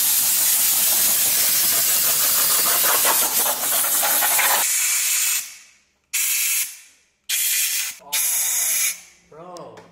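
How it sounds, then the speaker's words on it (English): Compressed air blasts through the head-stud ports of a Toyota 1JZ-GTE engine block, a loud sustained hiss that gives way to several short sharp bursts, with voices talking between the blasts. "we're gonna have to blow off the ports on the block for the ARP head studs"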